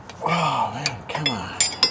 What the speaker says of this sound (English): it's just stripping it in the vice grip